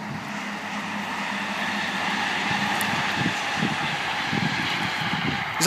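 A train passes on the East Midlands main line by the River Amber in Derbyshire, rumbling at a distance, a broad steady roar with low clattering building toward the end, outdoors with no voices.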